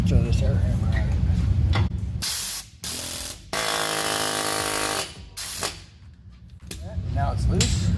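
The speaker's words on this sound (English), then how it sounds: "Throw this air hammer at it." Air hammer working on the axle nut of a 2001 Chevy S-10 during wheel bearing work, bursts of rapid pneumatic rattling and hissing air with a pause between, close and loud, with someone talking before and after.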